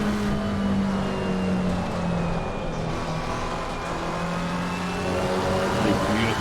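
A McLaren 720S GT3 race car on a hot lap in a racing video game, its engine droning steadily and loudly with shifting pitch throughout, no pauses or speech.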